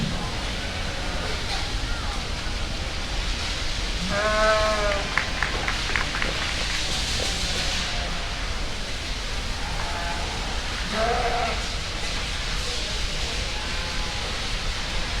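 Sheep bleat a couple of times, moderately near, amid the steady murmur and talk of people at a breeding sheep show in an open arena.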